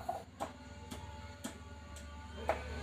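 Sewing machine running a double line of stitching along folded lace trim on a small girl's blouse, with a regular ticking clatter of needle strokes about every half second, moderately close and alone.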